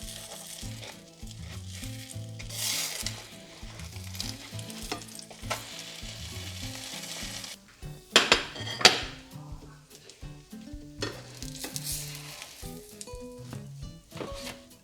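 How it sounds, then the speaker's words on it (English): A flipped omelette sizzles steadily in a hot pan, with metal spatula scrapes and clanks breaking through the constant frying hiss, loudest in a brief flurry of knocks midway. "So now we are ready to just flip that bad boy over like that."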